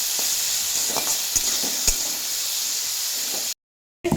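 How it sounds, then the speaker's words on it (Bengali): Chilli, tomato and green peas fry loudly in a pan, a dense steady sizzle punctuated by sharp scrapes and clicks of stirring, cutting out briefly near the end before resuming. "এবার ভালোভাবে সবগুলো দিয়ে নাড়াচাড়া করব।"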